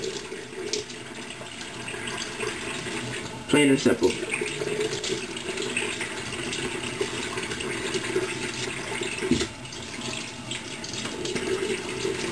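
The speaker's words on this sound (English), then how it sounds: "Fill the cup up with water. And you're just going to put it on your head." Water poured from cupped hands over someone's head while washing hair for 360 waves, a steady running splash throughout with a sharper splash burst partway through, under a voice talking.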